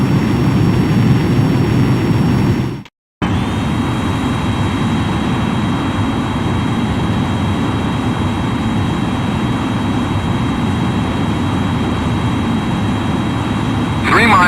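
A jet aircraft coming in to land in the video game Ace Combat X: Skies of Deception on PSP, with a steady, loud engine roar throughout, cut by a brief silent dropout near the start.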